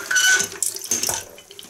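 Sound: rinsing keyboard keycaps under running tap water

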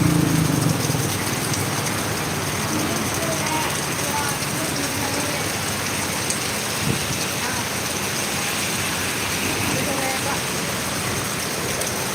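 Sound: heavy rain falling in town

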